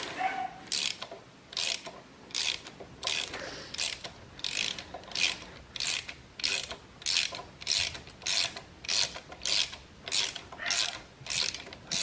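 A socket ratchet unscrewing a spark plug on a Peugeot 206 1.4i, sharp repeated clicking strokes in a steady back-and-forth rhythm, about a dozen bursts, close and clear.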